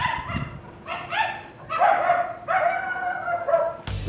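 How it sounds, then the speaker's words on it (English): Dogs bark in a quick series of sharp, yappy barks in Los Angeles, close and clear, with brief pauses between bursts. "Must be somebody else's dogs."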